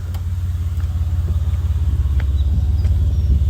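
A 2008 Chevy Impala LS fitted with a Flowmaster exhaust runs steadily, its deep, throaty low rumble pulsing evenly and close by, with faint clicks above and no talking.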